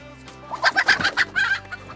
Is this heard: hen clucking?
yes